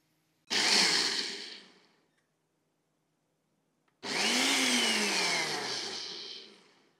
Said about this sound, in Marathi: ही जी भिजवलेली चण्याची डाळ आहे ती डाळ, आलं, एक चमचा जिरं, चिंचेचा कोळ हे जाडसर आपण वाटून घेऊ